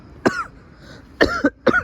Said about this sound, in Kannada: ಕೆಮ್ಮಾಗ್ಬಿಟ್ಟೈತೆ ಆ ಥರ ಹೆವಿ ಕೆಮ್ಮು